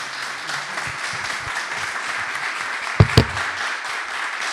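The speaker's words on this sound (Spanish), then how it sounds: "lo que voy a pedir es un fuerte aplauso para Cacho" An audience at a public talk on comic-strip masters applauds in a steady, even wash of clapping, with a couple of sharp thumps close by partway through.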